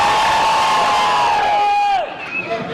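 An audience at a civil rights gathering screams and cheers loudly on cue, a sustained roar of the crowd with one voice rising above it, then quickly fading down.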